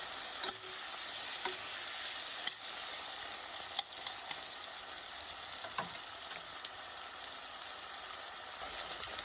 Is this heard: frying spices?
yes